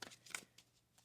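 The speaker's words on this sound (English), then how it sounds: "I always shuffle the decks before I start" Tarot card decks are shuffled by hand: a quick, faint flurry of soft papery riffles and snaps, several brief taps within about a second, close but quiet.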